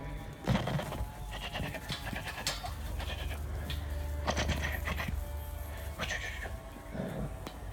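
Sheep bleat at a working dog demonstration at a small farm field day, with several short cries coming and going over a steady outdoor background. Faint talk mixes in.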